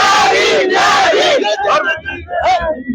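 A large crowd at a rally for Dr. Ambedkar's 134th birth anniversary shouts and chants loudly and close by, with rising voices that break into choppier bursts of cheering.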